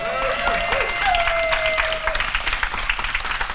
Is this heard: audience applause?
yes